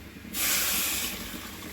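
Tamarind soaking water is poured into a pot of fish curry in a sudden hissing rush that starts abruptly, stays loud for a moment, then settles to a softer steady pour.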